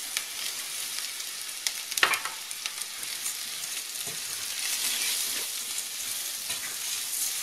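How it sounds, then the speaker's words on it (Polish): Rice is stirred and fried in olive oil in a pan for risotto with chanterelles, giving a steady soft sizzle and hiss, with a few sharp scrapes and taps of the spoon against the pan. "Ryż mieszam z oliwą, która jest na patelni."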